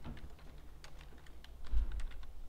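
Text being typed on a computer keyboard while working in Photoshop, a quick run of soft, close key clicks that ends with a slightly louder thump.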